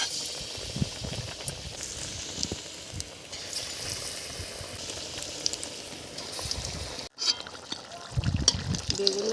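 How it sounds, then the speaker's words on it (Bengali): Eggplant fritters (beguni) frying in hot oil, a steady crackling hiss throughout with brief louder bursts and a short break near the end, no talking. "এখন আমি বেগুনি ভেজে নিচ্ছি।"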